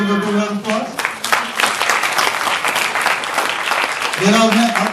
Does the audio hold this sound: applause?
yes